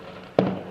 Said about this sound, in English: I'm sorry if you can hear the fireworks in the background.